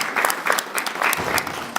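An audience applauds with steady, dense clapping, moderately loud and continuous throughout.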